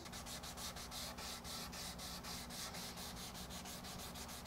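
Rhythmic back-and-forth rubbing of 600 grit sandpaper on the bevels of an electric guitar body, a quiet, even series of close scratchy strokes at a steady pace.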